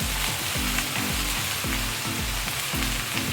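Onions fry in a hot pan with a dense, steady sizzle, broken by a regular low thumping pulse roughly twice a second, close by and with no voices.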